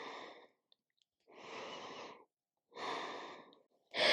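Slow, deep breaths during an Iyengar yoga forward fold, alternating inhales and exhales with quiet gaps between, close and soft with no talking.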